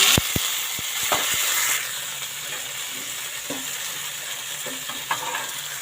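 Garlic, curry leaves and tomato sizzle loudly in hot oil as a tempering for drumstick sambar. A few sharp clicks and spoon knocks come early, then a steady, dense hiss continues throughout.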